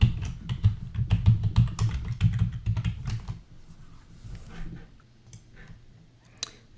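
A password is typed on a computer keyboard in a quick, close run of key clicks for about three seconds. A few sparse taps follow, with no talk.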